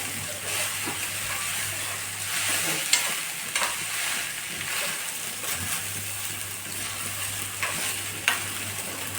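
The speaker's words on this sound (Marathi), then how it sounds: "राईसला पण छान मिक्स करून घ्यायचं" Rice being stirred in a pan for pulao, with a continuous soft sizzle and hiss and gentle scraping strokes of a spoon at irregular intervals, close and steady.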